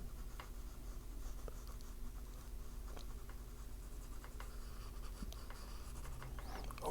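Pencil or drawing tool scratching lines on a board while sketching a snowman, soft close strokes in short repeated bursts with a light scrape, quiet and without speech.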